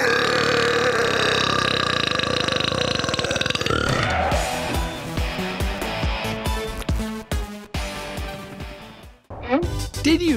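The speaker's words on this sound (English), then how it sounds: "Now, we all burp, and that's because when we eat and drink, we also swallow air, and it needs to come out." A long, loud, rumbling burp that wavers and breaks up into croaky bursts before fading, followed by talking.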